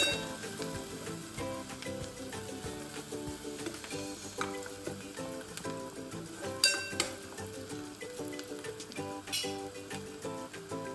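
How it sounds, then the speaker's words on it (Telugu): Onions frying in a pan until golden for a home-style chicken curry, with turmeric added, giving a steady, close sizzle with occasional stirring clinks and a tonal musical bed running underneath throughout. "ఇది దోరగా వేయించాలి"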